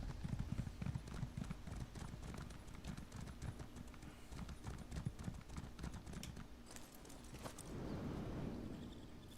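Horse hooves in Elder Scrolls Online, a steady, quick clip-clop of riding that runs for several seconds before fading into a wash of ambient game noise.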